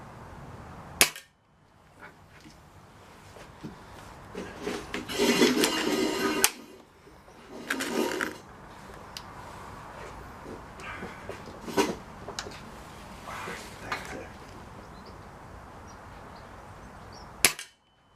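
A classic BSA Airsporter Mk6 air rifle fires several sharp, isolated shots at irregular intervals. Mechanical clatter and handling noises from cocking and loading fill the gaps between shots.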